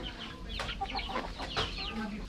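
Chickens in a small DIY coop on a mini farm cluck in short overlapping bursts, close by and fairly steady, with no one talking.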